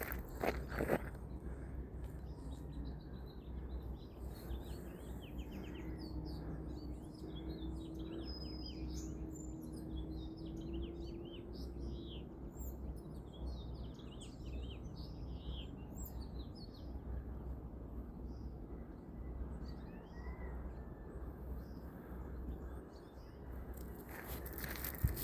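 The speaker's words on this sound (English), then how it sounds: "listen to the birds" Many birds chirp and trill steadily near a creek bed in the woods, overlapping calls continuing for the whole stretch over a soft, constant outdoor hum.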